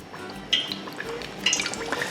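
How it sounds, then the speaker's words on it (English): Chicken batter drips off a fork-held chicken nugget in a home kitchen, giving a few soft, close wet drips and patters over a quiet background, with no talking. "Batter drips off and coats it."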